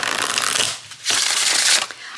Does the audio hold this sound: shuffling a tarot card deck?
yes